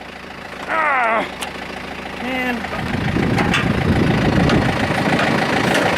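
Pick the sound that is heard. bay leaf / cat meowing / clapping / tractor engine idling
tractor engine idling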